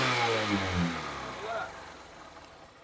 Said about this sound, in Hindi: मैंने बाइक को स्टार्ट किया